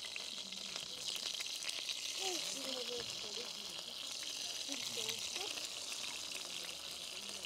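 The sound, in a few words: hot oil sizzling and splattering while frying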